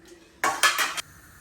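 A metal pan on a home kitchen stove, set out for cooking okra curry, gives a quick clattering burst of scraping and clinking lasting about half a second, close and fairly loud against a quiet background, with no voices.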